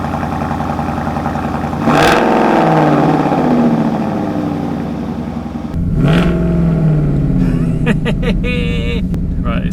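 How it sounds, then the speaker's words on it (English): A Ford Mustang with a Roush axle-back exhaust is revved twice, each rev a loud surge that falls back to a deep idle, heard up close with some rattling near the end. "That's what a Mustang's meant to sound like."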